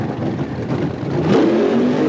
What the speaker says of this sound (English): A sensational burnout out of the Warlord Team USA car.